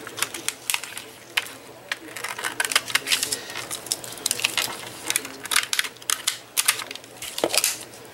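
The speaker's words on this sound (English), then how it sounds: "I'm going to cut these out, leaving that paper behind them." Pieces being cut out of a cardboard cereal box, a run of sharp, irregular snips and crisp paper crackles close to the microphone.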